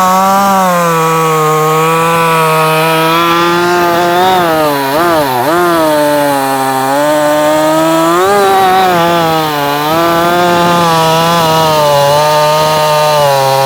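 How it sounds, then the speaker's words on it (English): A new Husqvarna 562XP chainsaw cutting wood, running loud and steady at high revs throughout, with the engine pitch dipping and recovering as the chain bites into the cut. "Damn, these things are smooth. Smooth cutting saws."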